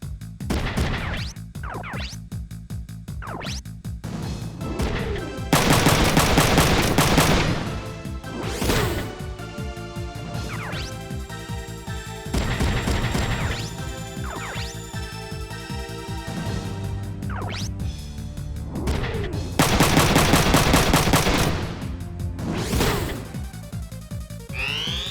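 Mech weapons fire in the Front Mission 3 video game, loud repeated blasts and crashing impacts in bursts over a busy game soundtrack, with several heavier volleys standing out.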